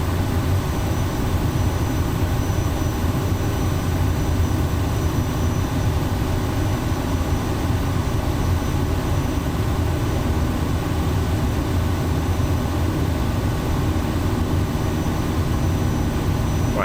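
Kodiak single-engine aircraft in MSFS 2024, engine held at idle thrust while taxiing heavy, giving a steady continuous turboprop drone with a faint high whine, unchanging and close, with no talking.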